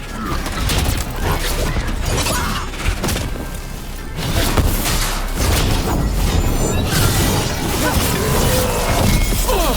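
Gadlock cannon fire and crashing impacts in a Dragon Age: The Veilguard battle, a dense continuous clatter of blasts, shattering and mechanical rattling throughout, loud and close, with voices mixed in.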